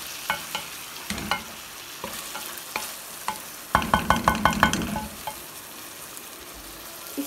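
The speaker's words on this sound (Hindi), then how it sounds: "इसको हमने इतना फ्राई करना है कि चिकन अपना कलर चेंज कर देगा" Boneless chicken fries in a pot for a handi, with a constant sizzle under repeated spoon scrapes and clatters that become a quick rhythmic burst of stirring midway; nobody talks.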